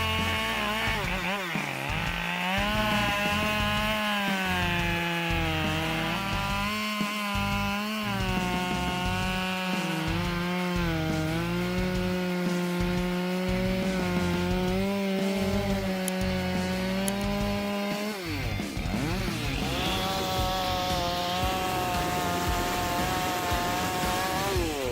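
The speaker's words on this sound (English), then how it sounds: "This chainsaw has impressive cutting power, handling dry wood with ease and exceptional speed." A Husqvarna 572 XP chainsaw cuts through dry wood, its engine screaming loud and close with a steady high whine that dips under load and recovers, pausing briefly near the end before revving again.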